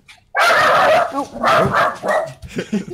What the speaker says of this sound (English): So his dog's going nuts.